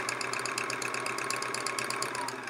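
A sewing machine stitches quilt fabric along a selvage edge, a steady, fast mechanical chatter of needle strokes running continuously at close range before easing slightly at the end.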